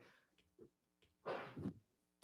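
A single sharp human sneeze bursts out after a few faint background sounds, close and fairly loud, and then trails off quickly.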